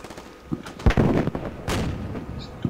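HEAT rounds fire in the video game Combat Mission Shock Force, with a couple of deep booming blasts and rumbling impacts layered close together over a short span.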